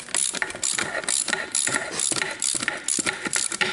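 A hand ratchet fitted with a Snap-on swivel socket works on the tracks of a Bobcat 763 skid steer, giving a continuous run of rapid, loud metallic clicks in short uneven strokes, close up and alone.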